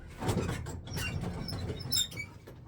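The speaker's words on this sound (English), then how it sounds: "this chair is fucking squeaky as hell" A loose, squeaky chair gives short, close creaks and thin squeals in scattered bursts as someone shifts on it, with no talking.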